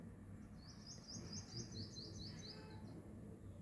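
Small birds chirping outside a kitchen, a rapid series of high, thin tweets trilling over a low steady rumble of distant traffic, faint and somewhat far off with no voices.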